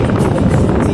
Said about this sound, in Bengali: এত সুন্দর বাতাস বইছে।